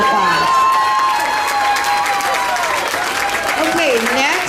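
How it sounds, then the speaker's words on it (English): Crowd applause for the junior champion and reserve junior champion at a youth swine show, a steady full wash of clapping through the whole stretch with a voice carrying over it. "Give them a nice round of applause."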